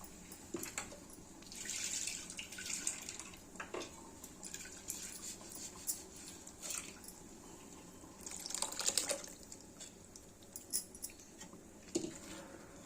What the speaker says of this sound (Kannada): ಇನ್ನೊಂದು ಚೂರಿಂದ ನೀರು ಹಾಕಿ ಒಳಗೆ ಹಾಕ್ತೀನಿ